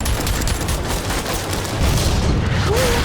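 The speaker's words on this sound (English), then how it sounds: "They better get out of there before they fire that cannon at them." A cannon firing in a battle scene, heard as a loud, sustained boom and rumbling blast that fills the whole clip, with dense low-end energy and no talk over it.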